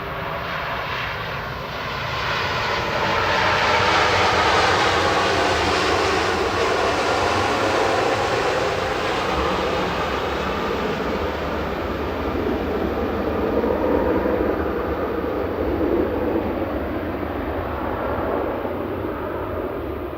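A TUI Fly Nordic Boeing 787-9 jet passes overhead after departing Manchester Airport, a loud sustained engine roar that builds, holds steady and slowly shifts in pitch as it flies over, with no talk.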